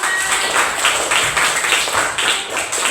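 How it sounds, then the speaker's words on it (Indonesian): Classmates clap for a student group at the end of their presentation in a classroom, a dense, steady patter of many hands lasting a few seconds with slight surges. "Tepuk tangan untuk kelompok 5"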